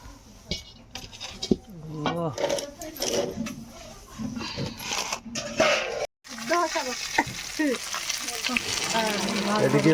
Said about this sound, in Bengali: এদিকে মাছ ভাজা হচ্ছে, ওদিকে মাংস রান্না হচ্ছে।